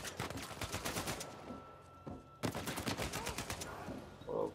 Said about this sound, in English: Someone is firing at me.